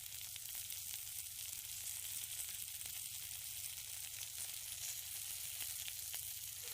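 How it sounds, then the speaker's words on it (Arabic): Tomatoes and onion sizzle steadily on a rooftop barbecue grill, a constant bright frying hiss with faint crackles, heard alone and at close range throughout. "صافي أنا حطيت هنايا المطيشة والبصلة باش يطيبوا حتى هُما"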